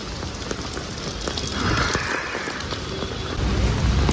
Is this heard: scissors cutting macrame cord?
no